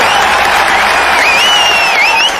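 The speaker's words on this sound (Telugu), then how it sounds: "మళ్ళీ చప్పట్లు." A large crowd claps and cheers loudly in one continuous burst, with a whistle rising above the applause near the end.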